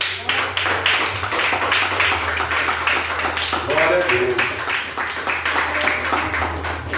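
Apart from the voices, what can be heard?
church congregation clapping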